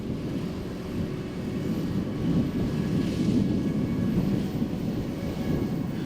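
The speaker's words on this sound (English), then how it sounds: "Vermeer ZR5 1200 self-propelled baler." A Vermeer ZR5 1200 self-propelled zero-turn baler runs in a hay field, a steady broad mechanical drone with wind-like rumble that holds evenly throughout, with no voices.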